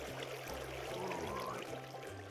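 Water flows and trickles in the video game Minecraft with a soft, steady watery wash, faint and continuous for a couple of seconds with no talking.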